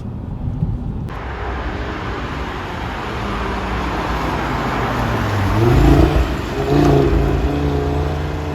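Audi TT RS Iconic Edition sports car driving on the road, a steady engine drone with tyre and wind noise, swelling briefly as it accelerates, heard from inside with no talk.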